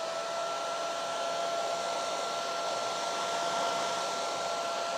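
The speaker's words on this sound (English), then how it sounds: "So we will take our dryer, hit that." A hair dryer runs steadily and close by for the whole stretch, drying freshly stenciled green paint, with a constant whooshing airflow and a faint whine, no talking over it.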